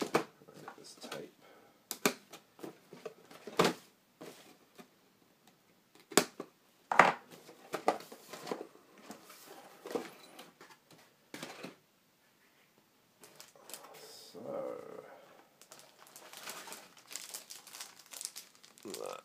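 Tape is peeled and pulled off the packaging of a Bandai 1/72 TIE Fighter model kit in sporadic crinkly bursts of tearing and plastic rustle, close and fairly quiet, with gaps between pulls.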